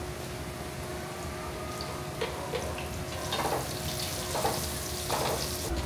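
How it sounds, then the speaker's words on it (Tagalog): Oil crackles and sizzles steadily as garlic sautés in a hot pan up close, with occasional scraping stirs and light clinks over the constant hiss. "magigisa tayo ng medyo maraming bawang"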